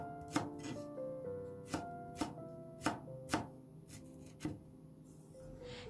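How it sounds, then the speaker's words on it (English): Green onion is chopped into small pieces with a knife on a cutting board: about eight crisp, fairly quiet strikes at an uneven pace, with soft music playing underneath. "Start by chopping some green onion into small pieces."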